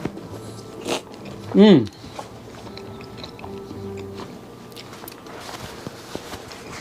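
A bite into a drunken carnitas (carnitas borracho) taco gives a brief, close crunchy sound, with a short appreciative murmur from the eater and quiet chewing and handling noises around it.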